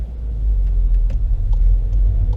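Low, smooth hum of a Volkswagen Polo Mk5 1.2 TSI Bluemotion four-cylinder engine heard from inside the car while driving, a steady rumble with faint road noise and no one talking.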